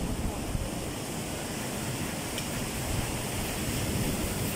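Sea waves surge onto a typhoon-battered shore after Typhoon Egay, a steady, loud wash of surf and wind roaring without pause.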